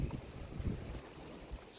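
Wind buffets the microphone in low, rumbling gusts on the Mississippi River, a steady rush of blustery air with no other clear sounds.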